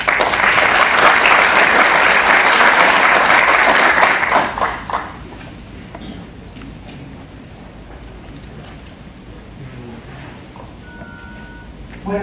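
At a Lima Superior Court of Justice ceremony for Judge's Day, an audience breaks into strong, full applause to welcome a speaker, which stops abruptly after about four seconds, leaving quiet room noise and a few footsteps.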